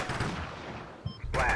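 Artillery fire in the Combat Mission Shock Force 2 war game, a short burst with a sharp report near the end after a stretch of rumbling background, fairly loud and close.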